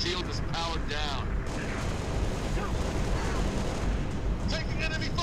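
Dense, continuous battle noise from Halo: Reach, with enemy gunfire and explosions rumbling loudly throughout, overlapping bursts and booms forming an unbroken wall of combat sound.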